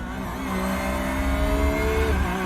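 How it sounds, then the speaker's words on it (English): A Porsche 911 race car at the Red Bull Ring in an iRacing championship round: a loud, close engine roar holding a high, steady pitch that swells slightly as it accelerates. "A lot of noise out of this Porsche."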